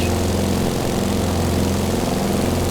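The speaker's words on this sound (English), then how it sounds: "airplane with a radial engine that has a beautiful flight characteristic" Radial engine of a Beechcraft 17 Staggerwing in Microsoft Flight Simulator 2020 drones steadily and loudly, a deep throbbing propeller-plane roar with a fast even pulse and no talk.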